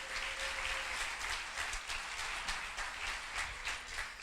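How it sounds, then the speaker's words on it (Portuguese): A church congregation claps during a sermon, a sustained, even wash of many hands applauding at a distance, fairly faint and continuous with no speech over it. "Aplauda aí o nome de Jesus, meu amado."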